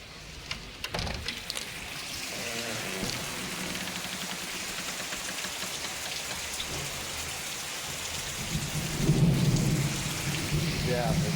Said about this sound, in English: it is raining here in Manchester, Kentucky